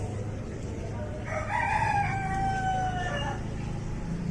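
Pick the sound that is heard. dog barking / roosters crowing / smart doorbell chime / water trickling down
roosters crowing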